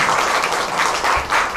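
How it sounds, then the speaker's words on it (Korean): An audience at a film screening Q&A bursts into sustained, dense applause, loud and continuous with slight swells, no speech over it. "한마디 한마디 다 하실 때마다 박수가 터져 나오네요"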